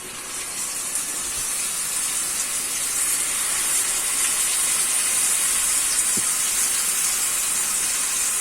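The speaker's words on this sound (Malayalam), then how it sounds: "എണ്ണയ്ക്കകത്ത് ചിക്കൻ ഇങ്ങനെ മൊരിയാറായി വരുന്നുണ്ട്" Marinated chicken deep-fries in hot oil with a continuous, fairly loud hiss and crackle that stays even throughout, heard alone without talk.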